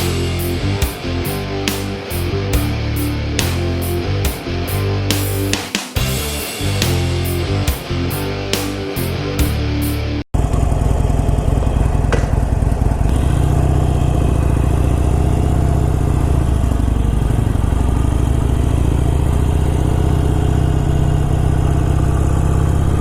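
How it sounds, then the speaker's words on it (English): 2018 Harley-Davidson Iron 883 engine running up close, first a loud, pulsing, lumpy idle with regular beats, then a steadier, lower rumble with rushing wind-like noise. "the Harley Davidson 2018 Iron 883"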